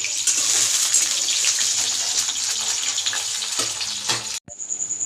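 Vegetables fry in a pan, a loud close sizzle with occasional stirring scrapes that breaks off abruptly near the end, then a faint hiss.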